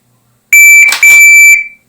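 Shrill electronic shot timer beep signaling a holster draw drill, a loud steady tone about one second long, interrupted midway by a short noisy burst, ending with a quick fade.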